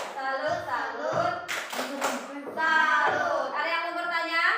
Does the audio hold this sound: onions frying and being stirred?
no